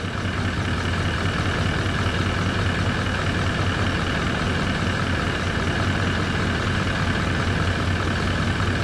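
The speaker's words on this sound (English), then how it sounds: "just let it sit there and idle for a bit and see what it does" A Toyota Land Cruiser 200 series engine idles steadily after an injector replacement, giving a continuous, loud low rumble with a constant even drone throughout and no talking.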